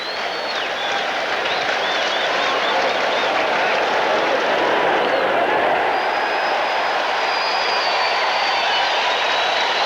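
Baseball stadium crowd cheering and roaring steadily during a 1986 game with two strikes and two outs in the fourth inning, a dense sustained wash of noise throughout.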